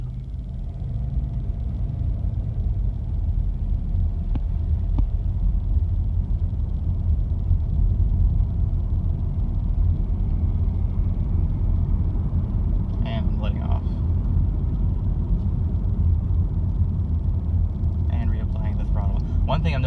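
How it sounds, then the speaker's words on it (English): A 2018 Subaru Impreza with only 106 miles accelerating under a held throttle, a steady low engine and road rumble heard from inside the cabin, with a few faint clicks and rattles. "I'm going to accelerate, I'm going to hold my foot there."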